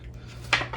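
A disposable pan is picked up and set down, making a brief, light metallic crinkle and clatter close by in an otherwise quiet room.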